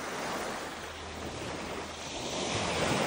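Calm, clear sea water washing gently onto a pebble beach in northern Palawan, a steady broadband wash with a soft low rumble, fairly close and continuous, slightly swelling toward the end, with no voices.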